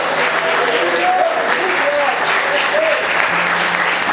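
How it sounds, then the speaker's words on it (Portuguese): Church congregation applauding during a sermon, a steady wash of clapping filling the room for several seconds, with faint tonal sounds and a voice or music murmuring underneath. "Você pode aplaudir a Ele por isso."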